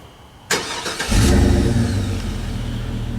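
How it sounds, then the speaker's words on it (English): A 2001 Chevy Suburban engine with a Flowmaster American Thunder dual exit exhaust cranks and fires up, then settles into a deep, steady rumbling idle from the exhaust, close and fairly loud. "my new Flowmaster American Thunder dual exit exhaust system on the Suburban"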